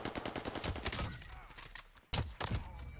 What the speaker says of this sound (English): Hear the shots beneath me.